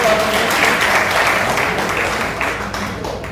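Audience at a residents' housing society federation meeting clapping together in a dense, steady burst of applause that fades slightly toward the end.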